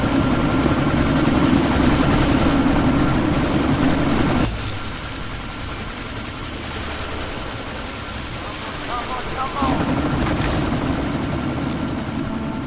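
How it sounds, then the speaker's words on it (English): A helicopter takes off in the video game Deus Ex: Mankind Divided, its rotor and engine drone loud and continuous, dipping in the middle before surging back. "That chopper's about to take off!"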